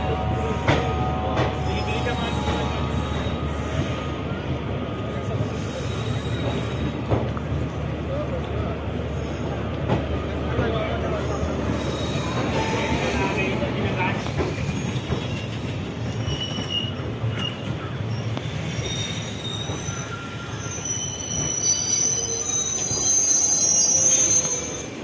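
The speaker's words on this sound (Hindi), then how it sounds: "तो भाई अपनी ट्रेन पहुंच चुकी है गोंडा जंक्शन" A passenger train pulls into Gonda Junction in India on the Gomtinagar to Tulsipur route, with a long metallic wheel squeal over a rolling rumble and clatter, heard from aboard, with people talking underneath.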